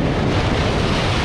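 Ocean surf on a rocky South African shore where mussels are gathered, a loud continuous roar of waves mixed with strong wind buffeting.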